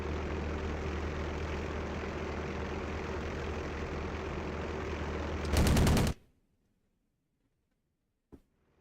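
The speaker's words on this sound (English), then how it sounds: "AA is shooting at me as well" In the WWII Online video game, a steady droning aircraft engine is cut by a brief rapid burst of anti-aircraft gunfire, then everything drops to near silence apart from one faint thump.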